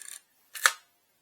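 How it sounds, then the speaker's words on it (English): Zenit film camera shutter fires twice: a short mechanical clack, a half-second pause, then a sharper, fuller snap, each crisp and close in an otherwise quiet room. "the shutter works on all speeds on this one"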